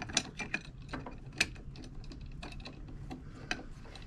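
Screws driven down with a ratcheting tool while assembling a SRIKO sodium car battery, giving a run of quick, close mechanical clicks and taps with a few sharper ticks, under a low steady background hum.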